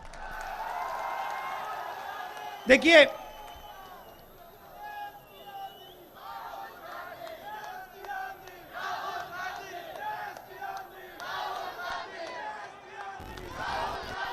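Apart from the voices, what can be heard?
crowd clapping and cheering at a political rally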